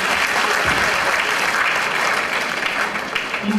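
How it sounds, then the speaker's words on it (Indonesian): Dense, sustained applause from a seated audience at a corporate presentation, loud and even from start to finish with no pauses. "Ya, tepuk tangan lagi"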